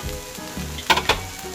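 Fish-boiling broth poured into a hot frying pan while cooking fish with water mimosa, bursting into a loud sizzle with two sharp hissing surges over a steady background fry, no talk.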